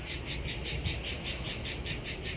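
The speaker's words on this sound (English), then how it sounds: "Listen to those noisy crickets." Crickets chirp in a steady, pulsing rhythm, about four bursts per second, loud and continuous with a faint low rumble underneath.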